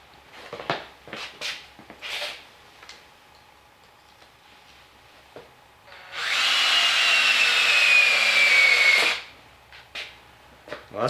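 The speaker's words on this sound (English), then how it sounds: "I think I'm going to test this thing in a handheld drill, and I'll see how much this bit wants to walk around" A handheld drill runs a freshly sharpened bit for about three seconds, a steady whine with a rising tone, set between scattered clicks and handling knocks.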